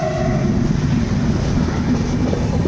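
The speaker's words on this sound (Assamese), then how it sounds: "ট্ৰেইন পাৰ হৈ গ'ল" A train rumbles past at speed, a steady loud low roar of wheels on rails filling the whole stretch without pause.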